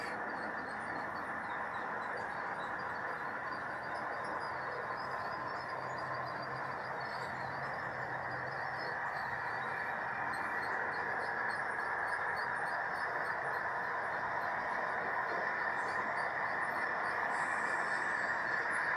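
A small model train hums and rattles steadily along its track, a continuous mechanical whir with faint clicking, no voices.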